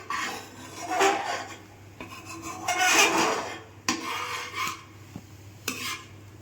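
Milk being stirred in a pan while cooking down for palkova, irregular scraping and rubbing of a spoon against the pan bottom in uneven strokes, close and fairly quiet.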